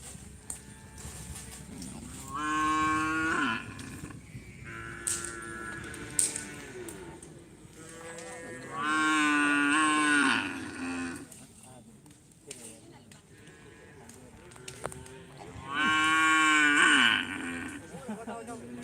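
Cattle moo in three long, loud calls spaced several seconds apart at a karapan sapi bull race on Sapudi Island, with quieter farmyard rustling and background noise between them.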